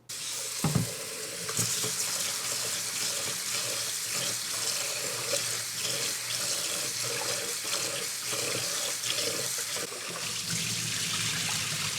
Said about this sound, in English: You're adding in 3 cups of water for 6 cups total. And I am cooking this in my rice cooker.